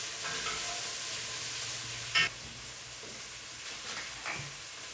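Onions sizzle quietly in a pan with a steady frying hiss, broken by a few short scraping stirs, one sharper clack partway through.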